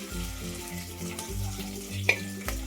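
Spices sautéing in oil for a healthy dal khichdi, a steady close sizzle and frying hiss with a faint metallic tap near the end, no voices.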